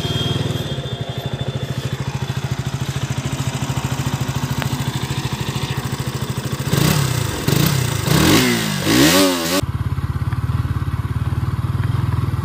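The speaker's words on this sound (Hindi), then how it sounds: "आप लोगों को एक बार एग्जॉस्ट नॉइज़ सुनाता हूँ कैसा है" A motorcycle exhaust idles with a steady low throb, then revs sharply several times in rising and falling bursts before dropping back to idle.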